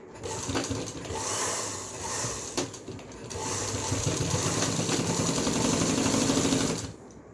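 An electric sewing machine runs close by, stitching a top-stitch seam along folded fabric in a steady whirring, rattling burst of about six seconds with a brief pause near the three-second mark.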